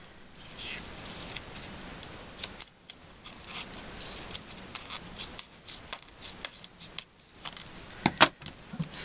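Scissors snip repeatedly while cutting material for a gold shaker card, a close series of crisp, irregular metallic cuts with small rustles between them and no talking.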